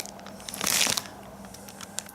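Plastic bag being peeled off cured epoxy on a macrocarpa slab bartop, a short burst of crinkling and tearing that peaks then trails into faint scattered crackles, close and alone.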